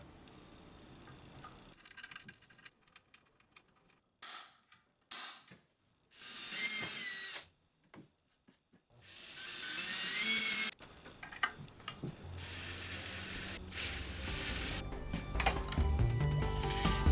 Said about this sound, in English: Now, next, I gotta punch the holes for these bits.